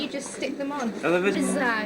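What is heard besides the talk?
No distinct noise like a dog, phone or traffic.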